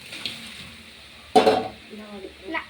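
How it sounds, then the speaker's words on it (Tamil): Masala frying in oil in a pot, with a sharp metal scrape of a spoon stirring midway, faint sizzling underneath and lighter clinks and scrapes later. "நல்லா வறுக்கணும்."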